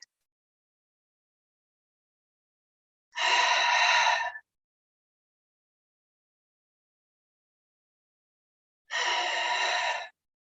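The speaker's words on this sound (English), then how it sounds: "breathe in as you come forward, feel your belly, and breathe out as you go back" Deep breaths during a sacred dance session come as two isolated, breathy gasps several seconds apart, each about a second long, close and clear against silence.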